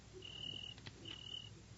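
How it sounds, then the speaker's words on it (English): A cricket chirps indoors as a radio sound effect, with two faint trills under low background hiss and a brief click at the end. "Oh, listen. There's a cricket in the house."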